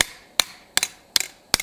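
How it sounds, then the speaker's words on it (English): Hammer blows forging a steel spatula on an anvil, four sharp metallic strikes at an even pace, each followed by a quick lighter rebound tap, close and clear with no speech. "If you need to add any hammer blows in here to straighten her out, go ahead and do so now."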